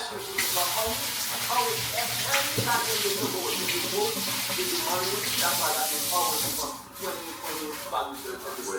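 Tap water runs steadily over fresh hot peppers being washed in a kitchen sink, a continuous close hiss and splash with a voice talking over it before the flow eases near the end.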